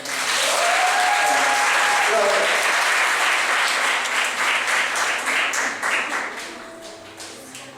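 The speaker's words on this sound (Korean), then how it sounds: "우리 리더도 박수 한번 주시고" A church congregation at a Wednesday evening worship service applauds a leader, broad sustained clapping that begins loud and full, then thins and fades toward the end while voices carry over it.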